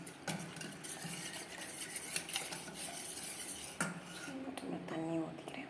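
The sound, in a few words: stirring health mix powder in a vessel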